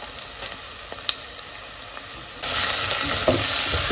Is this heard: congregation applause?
no